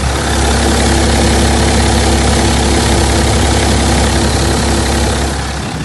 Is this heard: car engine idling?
yes